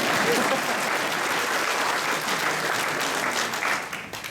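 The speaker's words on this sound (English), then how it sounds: "You can applaud for Eric McCormick." A large convention crowd at Phoenix Comicon claps steadily and loudly for actor Eric McCormick, a dense, sustained wash of applause that fades slightly at the end.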